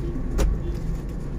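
Congested traffic on the road toward Pasar Klewer in Solo: a steady rumble of idling and creeping cars, with one vehicle briefly surging louder nearby.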